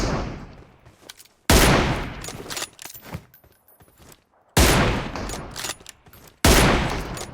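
Loud bursts of close automatic fire in PUBG Mobile arrive as several separate volleys, with short quiet gaps and faint clicks between them.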